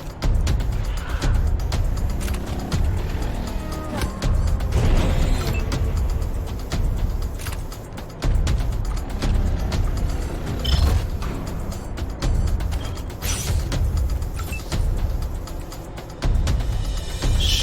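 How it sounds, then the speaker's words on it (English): A vehicle rumbles along in the post-apocalyptic game Wasteland 3, a dense, continuous engine roar with intermittent bangs and clatters layered over it. "then just run them all over with the car"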